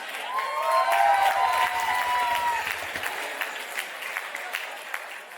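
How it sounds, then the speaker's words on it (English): A crowd claps loudly and steadily, with a few whistles and cheers rising above the applause before it gradually thins out. "Please give a huge round of applause for all the uncles and aunties."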